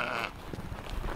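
A sheep on a farm lets out a short bleat at the start, then soft rustling and shuffling follow, heard up close over the brief moment.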